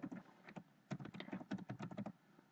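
Computer keyboard typing while entering a password, quick bursts of soft close keystrokes in uneven clusters with brief pauses, fairly quiet.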